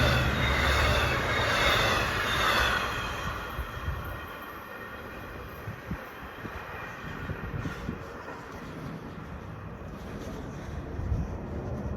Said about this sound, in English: Looks like it's an Oyster Bay train.